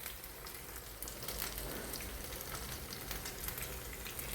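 Chicken lollipop kebabs frying in sunflower oil, a dense continuous bubbling sizzle with fine crackles, fairly quiet and steady with no voices.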